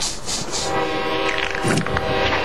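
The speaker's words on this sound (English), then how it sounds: "Sounds like there's a train around here somewhere." A train in the cartoon Eek! The Cat rumbles past nearby, a steady loud roar with clattering and a brief horn-like tone rising toward the end.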